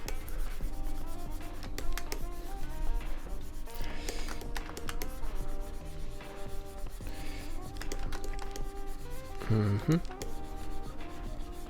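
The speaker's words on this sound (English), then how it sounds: "all you hear is just a clicking and my pen just rubbing against my tablet" Pen rubbing and scratching across a drawing tablet in steady close-up strokes, mixed with occasional clicks, quiet and continuous throughout.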